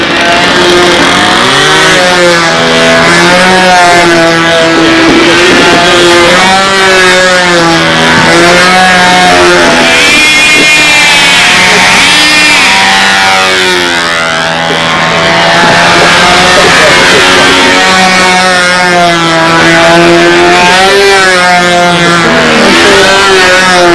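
A small high-pitched model aircraft engine running low on fuel whines continuously, its pitch wavering and surging up and down as if sputtering, loud and close throughout.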